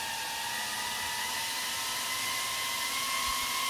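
Drone motors spinning under a 2-amp load give off a steady, loud, high-pitched whine with sharp tonal lines, holding constant with no pauses and no voices.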